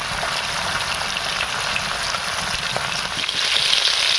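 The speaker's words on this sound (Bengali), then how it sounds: "মাছটা ভালো করে লাল লাল করে ভেজে নেব।" Bhola fish frying in hot oil in a kadai, a steady dense sizzle and crackle that holds loud and unbroken throughout, swelling slightly toward the end.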